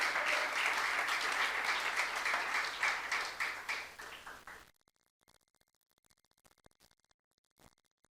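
Clapping from a church youth congregation fills a sermon pause, a full crowd applauding for about four seconds before tapering off abruptly into near silence with a few faint clicks.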